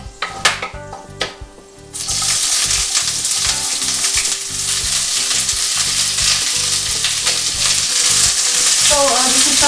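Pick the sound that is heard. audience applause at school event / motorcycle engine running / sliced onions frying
sliced onions frying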